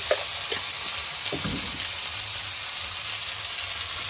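Turmeric and salt go into rice and lentils frying for khichdi in a Bengali kitchen, a steady close sizzle throughout with a few soft stirring scrapes and spoon taps.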